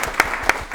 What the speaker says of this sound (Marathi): या टाळ्यांमध्ये प्रामुख्याने टाळ्या आम्हा कलाकारांच्या आहेत, कृतज्ञतेच्या